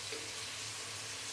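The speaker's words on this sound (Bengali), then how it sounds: "এপাশে পেঁয়াজ বেরেস্তা করে নিচ্ছে" Onions deep-fry until crisp for birista, a constant dense hiss of hot oil, steady and unbroken, with no talking.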